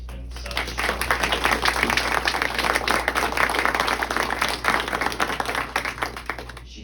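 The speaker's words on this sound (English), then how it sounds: "I just want to give her a round of applause" A round of applause at a book signing, with a small crowd clapping steadily and fairly close for several seconds over a low background hum.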